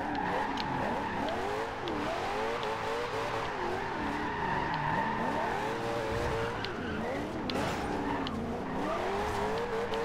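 A Corvette ZR1 drifts in Forza Horizon 2 with continuous wavering tire squeal swooping up and down over a steady engine drone, loud and unbroken throughout.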